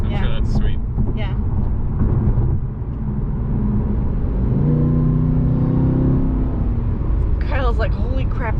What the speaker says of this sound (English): This is a beautiful sounding car too.